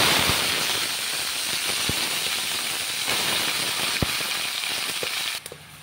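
Mixed vegetables drop into hot oil seasoned with bay leaf and panch phoron in a home kitchen, giving a steady loud sizzle with occasional sharp pops and crackles. The sizzle dies down abruptly near the end.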